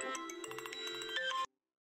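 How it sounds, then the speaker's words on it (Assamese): A mobile phone ringtone plays for about a second and a half, a bright melodic electronic tune with a steady rhythm, close and fairly loud before cutting off abruptly into silence. "এই সন্ধিয়াখন কাৰ ফোন আহিলে ৰচোন"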